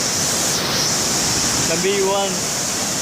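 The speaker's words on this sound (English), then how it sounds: "Nice the jungle, nice the waterfall." Large waterfall in the jungle of West Sumbawa, swollen after a day of non-stop rain, producing a loud, steady broadband roar throughout, with someone speaking briefly over it.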